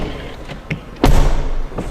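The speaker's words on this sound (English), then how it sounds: "Listen to the door sound." A 2024 Aston Martin Vantage door swinging shut, landing as one solid, close thud with a slight metallic edge, preceded by a few softer taps and handling sounds.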